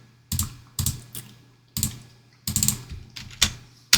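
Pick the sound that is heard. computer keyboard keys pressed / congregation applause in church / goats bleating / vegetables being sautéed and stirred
computer keyboard keys pressed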